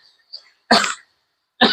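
Two sharp, harsh coughs ring out close by, separated by a short pause, with a faint throaty sound just before.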